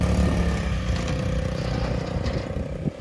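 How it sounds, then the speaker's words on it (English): A motorized scooter rumbles steadily close by as it crosses a bridge, with clattering, rattling knocks from loose wooden bridge slats running beneath the engine drone. "When a bike goes over, you can just hear all the slats just really rattle about."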